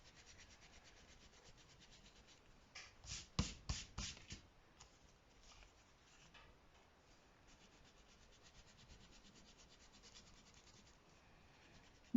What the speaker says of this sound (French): maintenant que vous avez tout poinçonné, vous pouvez gommer.